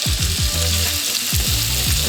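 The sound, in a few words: chicken tenderloins sizzling in olive oil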